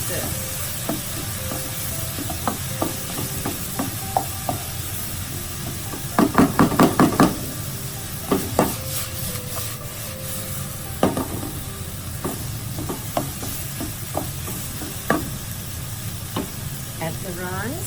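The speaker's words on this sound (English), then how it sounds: "I'll put a little bit some butter" Carrots and butter stirred in a frying pan for fried rice, a steady sizzle under repeated scraping utensil strokes, with a dense burst of clattering stirs partway through and scattered knocks after, close and moderately loud.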